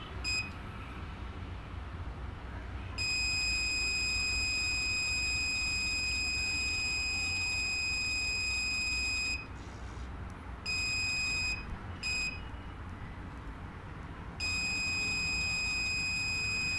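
A continuity tester buzzer sounds a steady, piercing electronic tone whenever the wires touch. It sustains for several seconds at a time and cuts off in a few brief gaps, with no talking.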